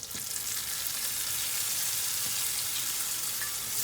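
Onions that were just browned are stirred in a pot, giving a loud, constant close sizzle with faint scraping movements underneath and no talking.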